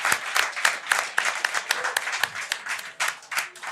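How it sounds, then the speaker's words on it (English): A studio audience claps for a departing guest on a live radio show, a short burst of scattered, fairly close handclaps with no talk over it. "Round of applause for Samantha."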